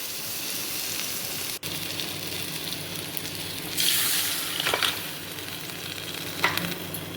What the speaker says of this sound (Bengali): এই সবজিগুলোকে মশলার সঙ্গে কষিয়ে নিয়ে জল দিয়ে দিলাম।